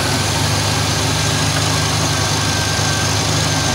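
A car's air conditioning compressor running while the engine idles, a steady loud mechanical drone with a low hum and a thin whine, unchanging throughout and with no voices.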